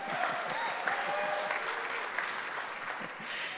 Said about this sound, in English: My boss is over there, Will Acosta. Let's give him a round of applause.